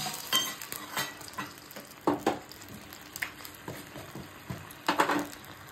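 Water poured into a pan of hot curry leaves crackles and hisses in short bursts, with scattered clinks of a spoon against the pan, fairly faint and close by.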